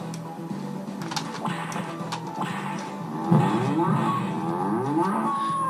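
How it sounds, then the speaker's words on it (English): A video game cow moos repeatedly in a low, drawn-out voice over a steady ticking, with a louder bellow partway through; no talking. "the cow has been launched"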